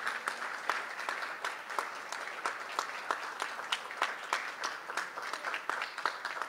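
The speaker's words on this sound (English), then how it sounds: "A round of applause, please." An audience applauds after a presidential speech at a formal government event, a steady patter of many hands clapping, fairly distant and soft, with no talk.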